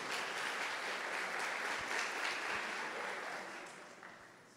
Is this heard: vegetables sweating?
no